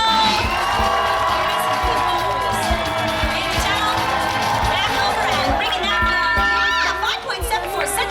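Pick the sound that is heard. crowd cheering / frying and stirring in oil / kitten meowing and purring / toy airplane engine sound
crowd cheering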